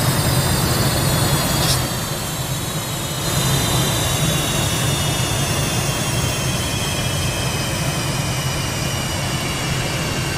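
Jet engines wind down after shutdown in the DCS World flight simulator, a loud, steady roar that gradually fades while a high whine slides slowly downward.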